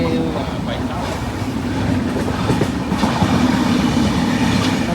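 A train rumbles steadily nearby, with rhythmic clatter of wheels on rails and a continuous low roar; faint voices underneath.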